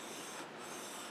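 Brief close scraping rasp of metal being worked back and forth on a 1000 grit Trend diamond plate, part of tuning a Stanley No. 5 hand plane, steady and unbroken.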